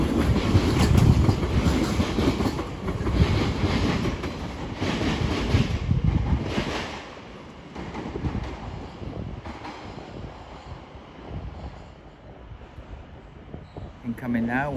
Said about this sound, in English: also heading out is 710-258, working the 12:30 London Overground service to Watford Junction.